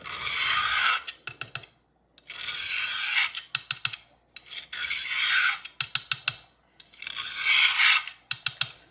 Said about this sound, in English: The more you do this, the more you mull it, the quieter it's going to get.